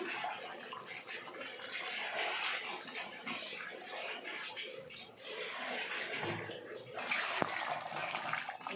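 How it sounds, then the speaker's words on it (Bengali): Water is poured into a pan of Bengali-style chicken kosha with potatoes, a broad steady splashing and hissing that runs for several seconds with a brief gap midway. "এই জল দিলাম"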